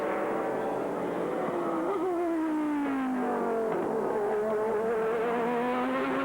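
Cadillac Northstar and Audi prototype race cars battling in American Le Mans Series racing in 2000, engines screaming loudly with steady high-revving whine and shifting pitch as they pass close together, no talk.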